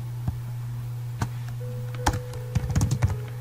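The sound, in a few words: typing a Python program on a computer keyboard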